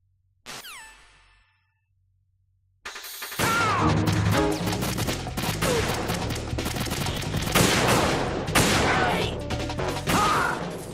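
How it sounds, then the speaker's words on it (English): Sniper gunfire from a PSG-1 rifle in Metal Gear Solid 2: Sons of Liberty, a brief electronic tone and a pause, then a loud, sustained barrage of booming shots and crashing impacts that continues to the end. "I'm going to show you how sniping should be handled."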